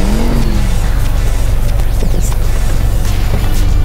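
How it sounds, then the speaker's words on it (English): A new car pulls away with a loud, close engine drone and road and tire noise that run continuously without a break. "I think now it's time for us to go for a ride in a new car."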